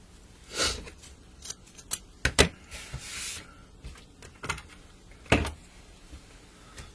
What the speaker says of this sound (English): just dovetailing those ribbons like that, so you'll see that it has that V cut right there